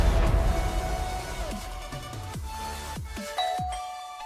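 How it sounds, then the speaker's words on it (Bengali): An electric calling bell at a door chimes repeatedly, a sequence of clear ringing tones with falling pitch, each note ringing out before the next, over a faint background hum. "বিকেল 5টার দিকে কলিং বেল বেজে উঠল।"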